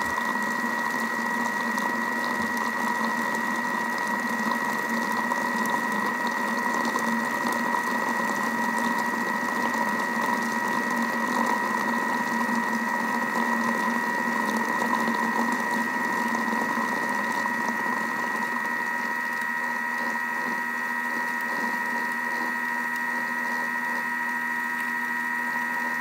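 Thermomix whisking French meringue for macarons, a steady close motor whir with a constant tonal hum holding unchanged for the whole stretch, no speech.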